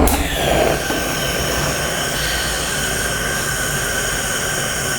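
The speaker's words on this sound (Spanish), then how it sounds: "Ahora vamos a prender nuestro quemador y vamos a calentar nuestro destilador." A gas burner under an alcohol still roars at full flame, making a loud, steady rushing hiss with a slight whine. A brief burst at ignition leads into the continuous roar.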